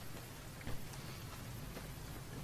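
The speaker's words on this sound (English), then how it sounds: "Seems to be a rainy, dreary day here in Zion National Park" Rain falling in Zion National Park in the game Fallout: New Vegas, a steady faint patter of raindrops on surfaces, with one slightly louder bump, no speech.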